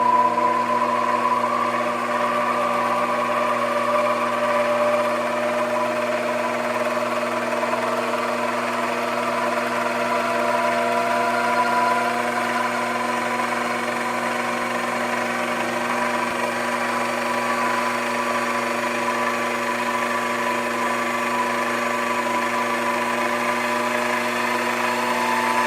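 A Grizzly mini lathe runs at 2,000 RPM during break-in, giving a steady, continuous motor whine and hum with no change in pitch or loudness, heard alone at close range.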